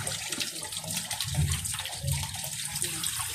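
Water running from a tap over cut bottle gourd slices being rinsed, a close, fairly loud gushing and splashing that swells and dips throughout.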